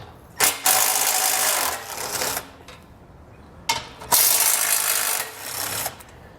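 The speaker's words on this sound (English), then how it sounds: "we're going to go ahead and take a 16mm socket and remove those 2 bolts" Two bolts come off a 2021 Jeep Wrangler with a 16mm socket during a Roadmaster crossbar-style base plate install. Two loud, gritty bursts of about two seconds each are separated by a short, quieter gap.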